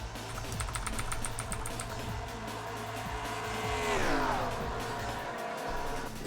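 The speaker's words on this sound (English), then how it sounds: "The top 4 cars all fighting on the lead lap in a bunch together here." Stock cars race at Pocono in a video game, a blend of engine drones passing by with a rising and falling sweep, plus faint clicking of a computer keyboard under the engine noise.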